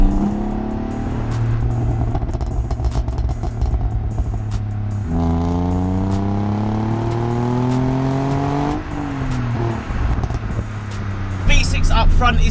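A 2005 Ford Mondeo ST220 with a 3.0 V6, six-speed manual, K&N induction kit and full Milltec catback exhaust drives along, its engine note climbing steadily through the gears in a continuous, fairly loud drone.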